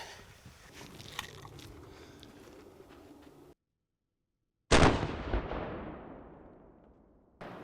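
A muzzleloader rifle fires a single loud, sharp shot close by at an outdoor range, its boom decaying over a couple of seconds after a stretch of quiet.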